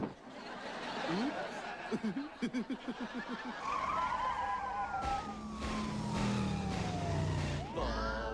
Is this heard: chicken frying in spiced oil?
no